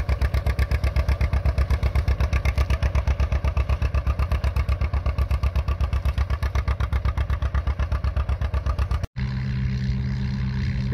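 An Oliver Super 77 antique tractor engine runs steadily at a plow day, its loud rhythmic chugging close by and continuous for about nine seconds before cutting to a quieter, rougher engine drone.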